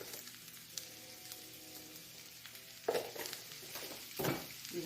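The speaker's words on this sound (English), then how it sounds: "Stir that all up." An omelet mixture of chili crisp and leftovers being stirred, a faint background hum under two louder bursts of scraping and sizzling splashes toward the end.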